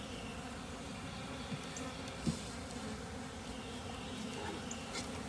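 Honey bees from a package being installed into a hive give a continuous low buzzing hum, steady and close, with a few faint clicks and no talk.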